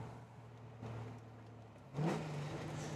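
A supercharged 1965 Ford Mustang with a 302 and an automatic is heard from a distance as a faint engine hum. The hum rises into a brief rev near the end and is partly masked by road background.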